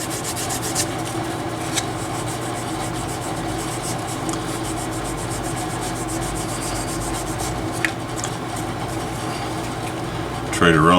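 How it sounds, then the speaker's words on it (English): Hand sanding with 220 grit sandpaper on the wooden handle of a Gerstner tool chest, a continuous rhythmic rubbing scratch close by with occasional small knocks, voices faintly in the background. "So I'm going to go ahead and sand."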